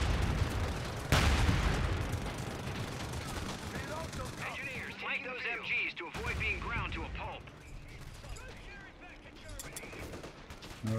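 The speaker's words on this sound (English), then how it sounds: "Peppered by an MG over here." Machine gun bursts and scattered gunfire from a Company of Heroes 3 battle around Monte Cassino, with heavy booms early on, dense crackling shots throughout, and voices calling out amid the fighting.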